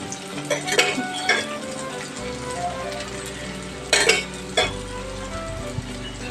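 Ivy gourd poriyal sizzling and crackling in hot oil in a pan, a steady close frying hiss with bursts of spatula stirring and scraping, no voices.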